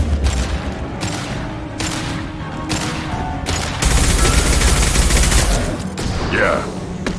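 Gunfire in the Mass Effect 2 video game at the Horizon colony mission: loud, dense bursts of rapid shots and booms rolling almost continuously, with a swell of heavier fire midway and brief voice chatter mixed in.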